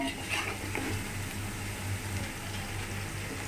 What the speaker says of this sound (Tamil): வெங்காயம் வந்துட்டு நல்லாவே வதங்கணும்